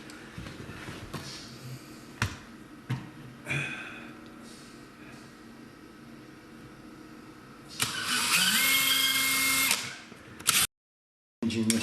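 A drill fitted with a masonry bit bores into a stucco wall. Scattered knocks and handling noises come first, then a loud, gritty burst of drilling lasts about three seconds before it stops abruptly.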